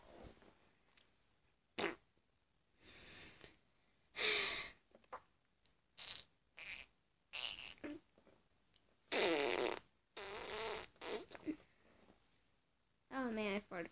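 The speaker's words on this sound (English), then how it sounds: "I farted on camera" A fart breaks out among scattered bursts of talking and laughter from several young people playing minigames, heard close to the mic.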